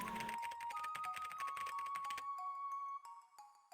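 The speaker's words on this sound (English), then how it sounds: "A lot of typing there." Rapid keyboard typing from a paranormal investigation video game, a dense clatter of keystrokes for about two seconds, followed by chiming electronic tones as the search finds a match.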